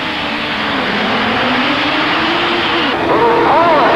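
Pack of 1986 stock Suzuki GSX-R 1100 racing motorcycles in a club race final, a loud continuous engine roar with rising harmonic pitch as the field launches, overlaid by commentator talk throughout.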